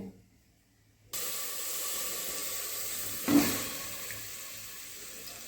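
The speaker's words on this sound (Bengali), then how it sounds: "ধুয়ে এটাকে প্রেসারে একটা সিটি দেব" Pressure cooker on a stove while jackfruit cooks, sending out a steady loud hiss of escaping steam that begins abruptly after a second of near silence and carries on, with one brief sharper burst partway through.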